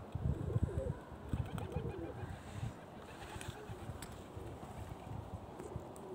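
Racing pigeons cooing softly in a loft, low murmuring calls repeating over faint background noise and occasional scuffles.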